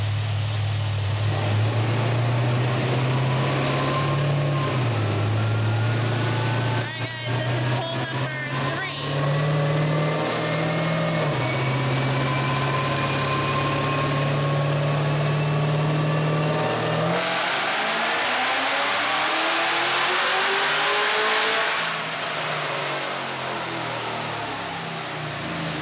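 A Cadillac CTS-V with a ported supercharger runs a full dyno pull, its engine droning loud and steady as revs climb with rising whine, then cutting off into a falling, winding-down tone; a slight misfire stutter is present.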